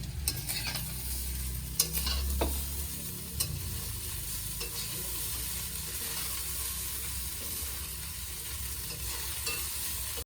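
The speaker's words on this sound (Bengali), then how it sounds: "সরু চাল তো আলতো ভাবে এগুলো নাড়তে হবে" Thin-grained rice being stirred gently in a pan for sweet fried rice: a soft, continuous sizzle close by with occasional scraping clicks from the utensil, no voices.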